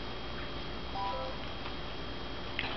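A mobile phone chirps a few brief electronic tones during a jewelry unboxing, fairly quiet over steady room hiss, with no talking.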